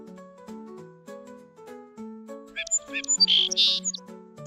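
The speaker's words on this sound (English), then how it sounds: "Robin." Robin song rings out as a cluster of bright, rapid twittering phrases rising over soft background music, close and fairly loud, with no speech.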